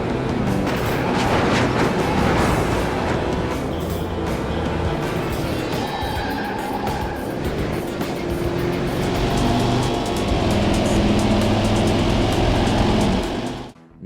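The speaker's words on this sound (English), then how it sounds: "just a generic engine whine that could probably belong to any box" Corvette racing car in a PS2 video game, a continuous generic engine whine that rises and shifts in pitch, steady and loud throughout before cutting off at the end.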